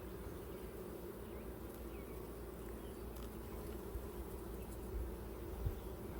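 Honey bees buzzing around a backyard hive, a faint, steady, low hum from many insects with a few closer passes, and no voices.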